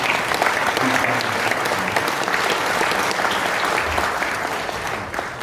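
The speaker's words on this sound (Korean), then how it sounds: "우리 공로교회 다 같이 한번 큰 박수로 감사합니다" A church congregation at a Korean mission society general assembly claps together in sustained, dense applause that holds steady and fades slightly at the end, with no one speaking over it.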